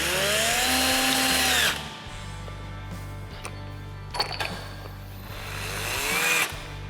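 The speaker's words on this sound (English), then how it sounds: "This is our Lithium Series 2 gun." Lithium Series II battery-powered torque gun running nuts down, a loud steady whir for almost two seconds, then quieter mechanical hum with a couple of sharp clicks, and a second rising whir near the end.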